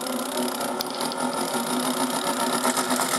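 A small motor in a 1980s Nikko America Mighty Washer toy washing machine whirs continuously with a busy, buzzing rattle, a steady close-up spinning hum with no speech.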